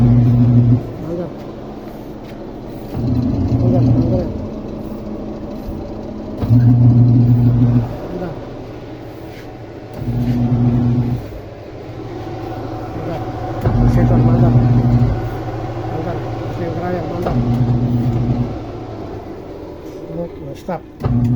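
Spin dryer motor starting and stopping in repeated cycles, a loud low humming drone that swells for a few seconds, cuts out, then returns several times, with a person talking between runs.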